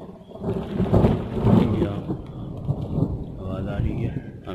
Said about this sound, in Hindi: आवाज़ आ रही है, हम देख रहे हैं बादल गरजने की।